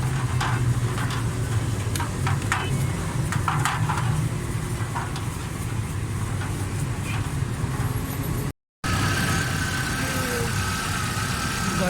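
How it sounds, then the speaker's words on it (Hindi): A Hyundai Santro's engine runs at a steady idle, a continuous low rumble with small ticking noises scattered over it, after earlier trouble with misfiring, RPM rising and falling and fuel problems. "गाड़ी स्टार्ट है, बिल्कुल मुकम्मल है, कंप्लीट है गाड़ी"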